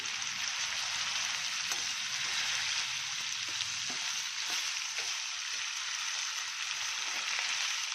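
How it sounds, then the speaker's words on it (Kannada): Onion frying in a pan, giving a continuous, even sizzle with faint scattered pops, like light rain, alone and fairly close throughout. "ಇರುಳ್ಳಿ ಸ್ವಲ್ಪ ಫ್ರೈ ಆದಮೇಲೆ ಬಟ್ಮೆಂಟ್ ಇಂಟಾ ಹಾಕ್ತೀನಿ"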